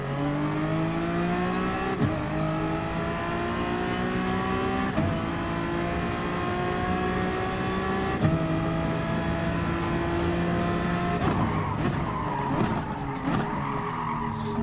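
A GT Sport race car on hard tyres sounds a loud, steady engine whine that climbs through the gears with shifts every few seconds, then ends in tyre squeal and scrubbing as it understeers off the track.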